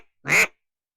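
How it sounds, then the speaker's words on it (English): A single loud, close duck quack rings out once near a duck blind, brief and alone against silence. "Ducks."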